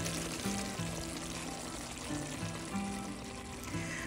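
Water is poured into a pot of smoked turkey wings cooking on the stove, a steady soft rushing pour with a faint simmer or sizzle beneath and no talking.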